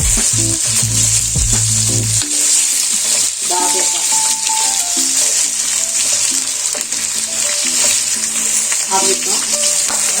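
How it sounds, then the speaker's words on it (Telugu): Chicken pieces with green chillies and curry leaves sizzle and fry steadily in a pan over high flame, with continuous crackling and occasional stirring, while background music plays throughout. "హై ఫ్లేమ్ పైన ఒక 10 minutes అంతా బాగా కలుపుకోవాలండి, వేయించుకోవాలి."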